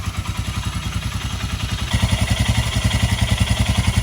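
A Royal Enfield Himalayan motorcycle idles close by with a steady, rhythmic thumping beat that gets slightly louder partway through.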